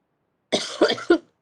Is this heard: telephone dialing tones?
no